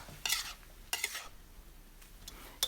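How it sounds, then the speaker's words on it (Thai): Cha-om acacia leaves are stir-fried in a pan with glass noodles, egg and shrimp, giving a few scraping stirs of a utensil against the pan over a faint sizzle. "สำหรับชะอมนะคะ เราจะผัดจนสุกเลยนะคะ"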